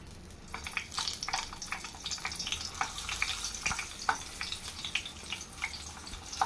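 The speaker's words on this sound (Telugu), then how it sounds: "ఇది మీడియం ఫ్లేమ్లో పెట్టుకొని వేయించుకోవాలండి" Stuffed capsicums fry in hot oil over a medium flame, giving a moderate, uneven sizzle full of quick pops and spits that crackle close by without any talking.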